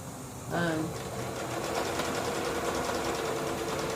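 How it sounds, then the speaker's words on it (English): A sewing machine stitching around a fabric heart made for NICU babies: a steady, rapid mechanical whir that runs continuously from the first half-second onward, close and moderately loud, with a brief voice near the start. "I'm going to stitch all the way around the heart"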